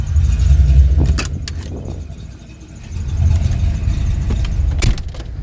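A 1992 Ford Mustang GT with SVE headers, SVE X-pipe and Mac Pro dumps pulls away and drives, its V8 exhaust rumbling loud and close with rising and easing throttle and no talking.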